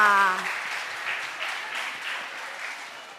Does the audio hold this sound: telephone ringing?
no